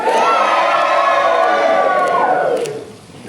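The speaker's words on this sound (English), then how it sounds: "can I get a big massive cheer on the count of three and a big wave?" A group of wedding guests gives a big cheer together, a loud burst of shouting and whooping that holds for about two seconds and then fades off.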